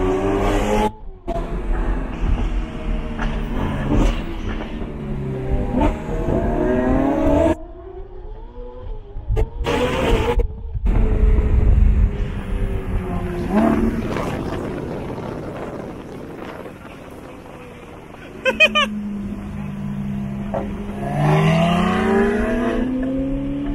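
A loud Lamborghini Aventador SVJ engine revs and rises in pitch repeatedly, with raspy exhaust tones, gear changes and a few sudden cutouts in between.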